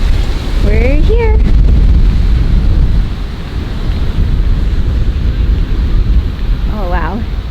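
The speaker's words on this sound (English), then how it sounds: "Oh, it is so windy." Loud wind buffets the microphone in a constant low roar, with brief bits of a voice breaking through early and near the end.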